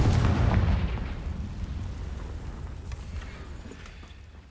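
A Confringo spell from Hogwarts Legacy goes off with a loud, booming blast right at the start, then a rumbling tail fades steadily over the next few seconds, with no voices.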